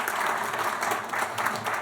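A crowd at a school board meeting claps in a dense, steady burst of applause lasting a couple of seconds, close and fairly loud, with no speech over it.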